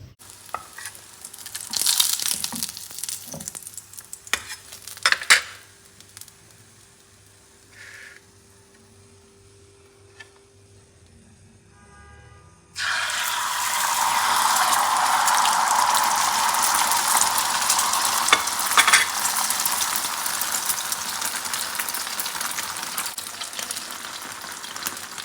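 Shami kebabs frying in a pan: a quiet first half with a few faint kitchen clatters, then a loud, steady, close sizzle that fills the second half without a break.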